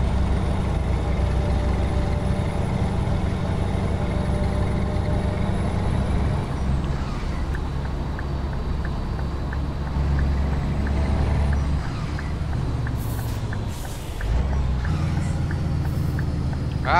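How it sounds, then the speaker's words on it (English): A Scania truck in Euro Truck Simulator 2 runs with a deep, steady diesel rumble, briefly dipping and changing pitch midway, with a short hiss and some clicking ticks, loud and continuous with occasional talk. "I like the sound of this Scania."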